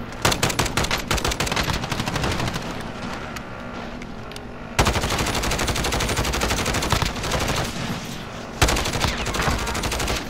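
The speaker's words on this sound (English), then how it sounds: "Somebody's shooting at us." Rapid automatic gunfire in the Call of Duty Modern Warfare video game, loud sustained bursts of shots with brief lulls, then sharp renewed volleys.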